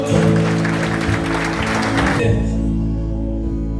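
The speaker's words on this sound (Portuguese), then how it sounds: "Vamos aplaudir ao Senhor." Congregational applause in a church service, clapping layered over sustained organ or keyboard chords; the clapping fades out after about two seconds while the held music continues.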